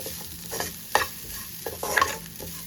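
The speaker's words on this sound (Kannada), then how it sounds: "ಸೊ ಸ್ವಲ್ಪ ಪೆಪ್ಪರ್ನ ಹಾಕ್ಕೊಂಡು ಫ್ರೈ ಮಾಡ್ಕೊಳ್ಳೋದು." Ground pepper fries in a pan with a soft, quiet sizzle, while a few brief spoon scrapes and taps mark the stirring.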